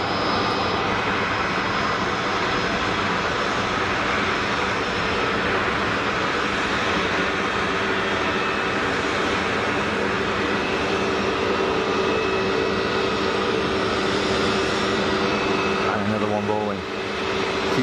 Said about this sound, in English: 320 Neo rocking up to the gate.